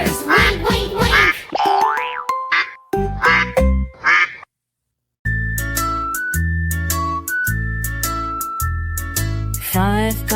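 A cartoon duck quacks over and over in a bright, bouncy children's nursery song, loud and close, with a short silent gap partway through before the quacking and music resume.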